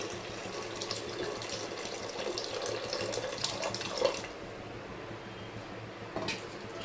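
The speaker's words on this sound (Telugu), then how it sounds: "కొంచెం సాల్ట్, కొంచెం ఇదిగోండి కొంచెం చింతపండు పులుసు పోస్తున్నాను." Tamarind juice pours in a steady watery stream into a salmon fish curry for several seconds, then stops, leaving a faint background hum with no talking.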